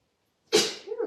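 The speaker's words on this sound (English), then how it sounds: "Letting the sneezes flow." A single sharp sneeze after a moment of silence, loud and close, trailing off into a short breathy sound.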